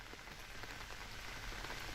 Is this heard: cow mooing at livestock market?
no